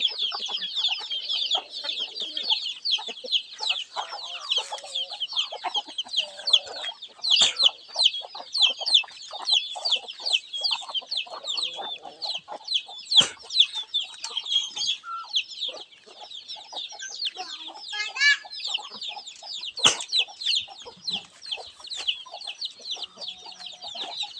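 Palawan native chickens and hens clucking in a yard, a busy chorus of near, repeated clucks and squawks with a few louder calls, no speech.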